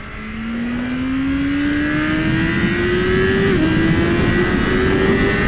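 A BMW M1000RR superbike engine pulls hard in one long rising acceleration, its tone climbing steadily with a brief dip around a gear change before climbing again. It stays loud and close throughout, with no voices.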